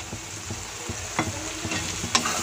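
Whisked sour yogurt hitting frying masala for a spicy chicken kosa curry, giving a close sizzle with rhythmic scraping stirs about every half second and a few sharper spatters near the end, no talking.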